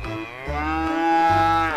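A large, heavy Australian cow bellows close by in one sustained, rich moo lasting nearly two seconds, loud and alone without any voices.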